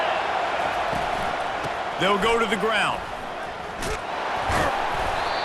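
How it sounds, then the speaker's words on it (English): A stadium crowd in College Football 25 keeps up a constant, loud roar, swelling slightly, while a commentator's voice talks over it. "This crowd knows when to bring it."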